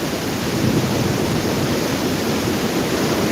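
Strong Typhoon Uwan wind in Bicol, Camarines Sur, roars as a dense, continuous rush of noise, loud and steady for a few seconds with no voices.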